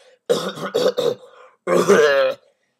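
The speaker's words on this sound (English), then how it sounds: "She begins to cough wildly" A young girl with a fever gives a burst of four rough, throaty coughs in quick succession, then a longer strained, groaning cough-like sound, close and loud.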